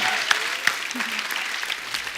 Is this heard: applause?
yes